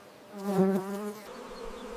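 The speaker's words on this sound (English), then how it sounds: "Bees play a vital role in turning those flowers into fruit." Bees buzz in a cardamom plantation. The hum is steady and droning, swells louder near the start, then thins to a fainter buzz with no voices.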